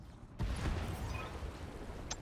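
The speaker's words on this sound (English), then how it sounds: "Ammo explosion." An ammo explosion in the mech combat video game BattleTech (modded RogueTech) bursts in with a sudden loud blast, then a dense roaring rumble of crackling detonations that sustains to the end.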